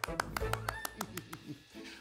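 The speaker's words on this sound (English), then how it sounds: "Everyone clap for him." Children clapping for Noah during a kids' church lesson, a sparse, uneven scatter of individual claps and taps over a few seconds, with people talking throughout.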